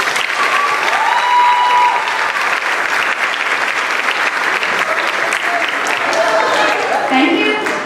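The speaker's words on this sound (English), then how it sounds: "Let's give them one more round of applause" Warm applause for graduating seniors at a high school senior awards ceremony fills the hall, a sustained burst of clapping from a large audience that holds steady throughout.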